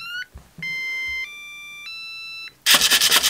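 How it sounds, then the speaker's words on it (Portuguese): A blue GearSix toy robot powering up with a series of clear electronic beeping tones, stepped pitches held for a moment each, followed by a loud burst of noisy electronic sound. "Para ligar, carregamos aqui no botãozinho que está aqui em cima durante alguns segundos"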